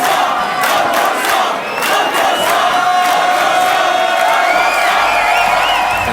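A huge crowd roars and cheers at a Sasha & Digweed club gig on the Delta Heavy tour, dense and continuous, with whoops and shouts rising out of the mass at close range.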